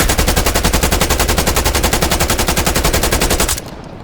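Sustained rapid automatic assault rifle fire in the video game Black Ops Cold War, a loud, dense, evenly spaced burst lasting several seconds before cutting off into a faint tail.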